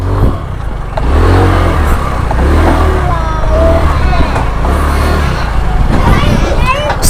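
A Rusi Rapid150 motorcycle engine idles and revs steadily while warming up after repair, loud and close throughout, with people talking nearby over the running motor.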